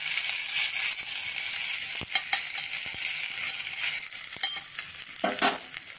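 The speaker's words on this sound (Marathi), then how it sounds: "अर्धा स्पून जिरं, तर आपण हे थोडंसं आलं हे परतून घेऊ." Ginger sautéing with cumin and mustard seeds in hot oil, a close, bright continuous sizzle with occasional spatula scrapes and small pops, no speech.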